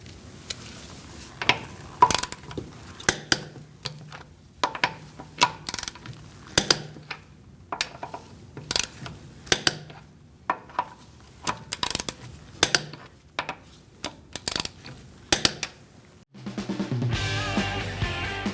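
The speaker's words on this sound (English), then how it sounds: "We're going to torque our wheel to 96 foot-pounds." Repeated sharp metallic clicks and clunks from a torque wrench and socket tightening the wheel on a 2008-2014 Mercedes-Benz C300 to 96 foot-pounds, coming in irregular bursts, then a steadier rattling clatter near the end.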